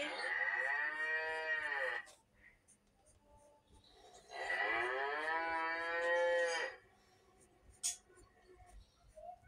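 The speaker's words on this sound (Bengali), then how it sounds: "তখনই গরুটার আওয়াজে গুড্ডুর ঘুম ভেঙে যায়।" Cartoon cow lowing in two long, loud moos separated by a short pause, with a brief sharp sound near the end and faint background noise.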